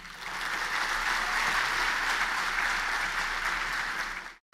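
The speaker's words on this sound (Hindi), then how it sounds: "ताली तो बजा दी आपने" Sustained audience applause at a youth convention in Sikkim fills the room, dense and steady clapping from a large crowd that continues for several seconds before cutting off abruptly.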